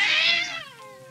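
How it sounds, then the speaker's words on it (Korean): A single piercing cat yowl, a shrill drawn-out shriek that slides downward and fades, set in a spooky story. It sounds close and alone. "처음에는 작게 들리던 울음소리가 점점 커지더니 고양이 특유의 찢어지는 듯한 괴성으로 바뀌었다"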